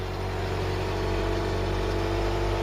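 A Ford Cortina Mk3 engine runs at a steady, rough idle, a constant low rumble with no break, loud and close, with no voices over it.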